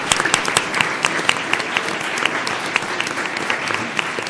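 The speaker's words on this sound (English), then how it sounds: "Let's give them another round of applause." Applause fills a school governing board meeting as a room of family and friends claps for honored staff, steady and moderately loud with some sharper close claps.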